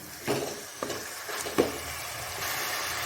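Chicken frying in a pot with turmeric, with a steady close sizzle and three or four distinct scraping stirs of a spoon against the metal as the spice is mixed in.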